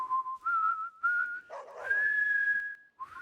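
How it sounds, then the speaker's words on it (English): A person whistles unsteadily, the thin tone wavering and sliding between pitches, broken by breathy, airy sputters before resuming as a longer held note and then another rising attempt. "that guy can't even whistle."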